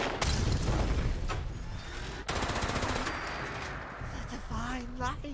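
Rapid automatic gunfire in the video game Fallout 76, loud, dense bursts filling the first half, then continued firing trailing off as a voice speaks near the end.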